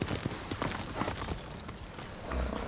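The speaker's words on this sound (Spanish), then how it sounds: "Voy a ver si puedo pasar por ahí con el caballo." A horse's hooves trot along in Ghost of Tsushima, beating a quick, even clip-clop close up over a faint background wash with no talking.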